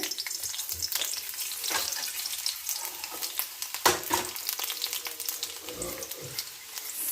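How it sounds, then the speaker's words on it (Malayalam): Chopped onion frying in hot coconut oil with dried red chilies, a steady crackling sizzle throughout with occasional stirring scrapes and soft clinks, moderately close and alone without talk. "വെളിച്ചെണ്ണ ചൂടാകുമ്പോൾ നമുക്ക് കുറച്ച് സവാള അരിഞ്ഞ് ഇതിനകത്തിട്ടിട്ട്"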